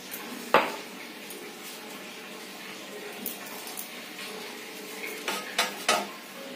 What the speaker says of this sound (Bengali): কড়াইটা গরম হয়ে গেছে, দিয়ে দিলাম আবার খানিকটা তেল।